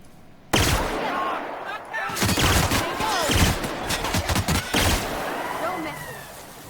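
Gunfire in The Outer Worlds, a sudden loud volley followed by bursts of rapid shots and heavy impacts in irregular clusters, close and dense, with some talk mixed in.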